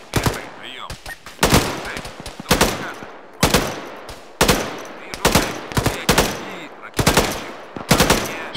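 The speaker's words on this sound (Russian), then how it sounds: "стрелять начал" Heavy gunfire in the military shooter Arma 3, with dense bursts of automatic fire repeating roughly every second, loud and close, and a faint voice underneath at times.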